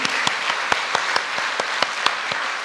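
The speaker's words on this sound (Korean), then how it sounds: "우리 한번 환영의 박수를 좀 하겠습니다." Church congregation applauding during a Sunday worship service to welcome visitors, a steady wash of clapping with a few sharp, close individual claps standing out.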